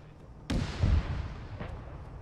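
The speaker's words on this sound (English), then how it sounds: "there's some AK fire on our left." Gunfire in a military video game sounds as a sharp, fairly loud shot with a booming echo, a second thump shortly after, and a fainter distant shot later over quiet background noise, with no talking.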